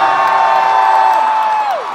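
Large concert crowd of thousands in Las Vegas cheering and whooping in a loud, sustained roar that holds steady for about two seconds before starting to ease.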